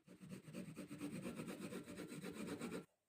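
A pencil drawing and shading on paper, a soft close scratchy rubbing in quick regular back-and-forth strokes that continues steadily for about three seconds, then stops abruptly.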